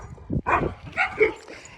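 A neighbour's dog gives a few short barks and yips in quick succession, fairly close and clear, with no one talking.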